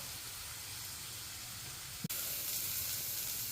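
Chopped onions sautéing in a pan with a ground onion and tomato paste for chana masala, giving a steady, even sizzling hiss broken by a single sharp click partway through.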